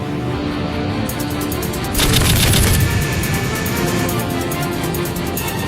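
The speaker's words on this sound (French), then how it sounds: "Tir de sommation au canon." A fighter jet's cannon firing warning shots at the Korean Air 007 airliner: a short, dense rattling burst that swells over a steady, loud jet roar and then fades back into it.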